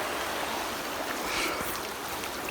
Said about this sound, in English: Yeah, gonna cross this creek soon enough.